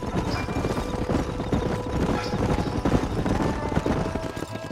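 Horses trot in Red Dead Redemption with a steady, close clip-clop of hooves running continuously over a dense game soundscape, with no talk.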